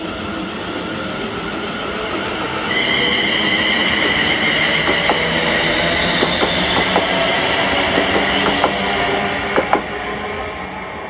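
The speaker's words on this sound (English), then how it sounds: "The 1328 Scottish service to Ardrossan Harbour from Glasgow Central" A ScotRail passenger service from Glasgow Central to Ardrossan Harbour rolls through Paisley Gilmour Street close by, a loud rumbling run with rhythmic wheel clicks over rail joints and a high squeal riding on top.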